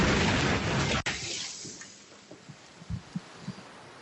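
A tree falls onto a home in a loud crashing burst with a sharp crack, followed by fading rumble and scattered thuds of debris settling.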